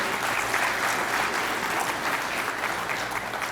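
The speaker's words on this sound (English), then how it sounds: "let's give him a round of applause." A crowd applauds steadily at an award presentation in Logan, Utah, a dense wash of clapping that holds at an even level throughout.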